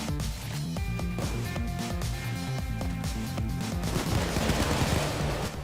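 Rapid bursts of Payday 2 gunfire crackle continuously, layered over electronic music, with no one talking.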